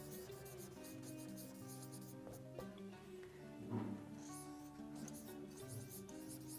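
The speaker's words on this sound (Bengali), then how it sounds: "উদাহরণগুলো লিখে দিই।" A marker or chalk scratches across a classroom board as grammar examples are written out, a soft steady scraping that sits under continuous background music.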